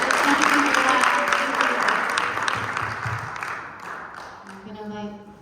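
A crowd applauds warmly at a talk about birth, with the clapping loud at first and then slowly thinning and fading, while a voice and some faint tonal sound come in near the end.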